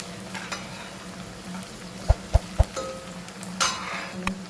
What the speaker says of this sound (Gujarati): લીલી ડુંગળી થોડી સોતે જેવી થઈ ગઈ છે. આપણે એમાં એડ કરીશું લસણ અને